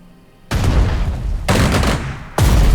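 Gunfire exchange in the World War II strategy game Strategic Mind: Spirit of Liberty, three loud bursts of shots and booms with sharp onsets, each ringing on for about a second, with no voices.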